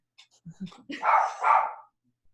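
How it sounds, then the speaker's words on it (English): A dog barks a few short yips, then lets out two longer, drawn-out howling barks, fairly close and clear with no talking. "I apologize for the crazy dog in the background."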